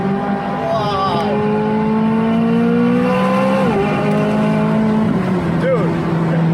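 A McLaren 600LT Spider's engine revs hard while racing, climbing through gears with rising, falling pitch sweeps and a loud, continuous roar from inside the car.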